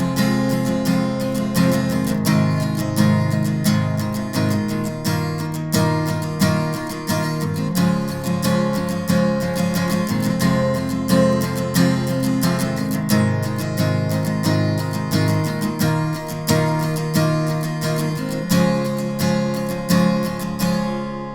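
Acoustic guitar strums the chorus of a song in a revival version, dense driving strokes in a steady rhythm, loud and close throughout with no talking.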